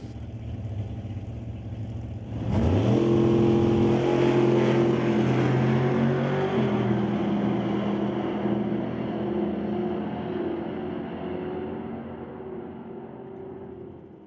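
A doorslammer drag race car fires off on a test pass, its loud engine surging up abruptly from a low idle into a sustained roar that slowly fades as it runs away down the track.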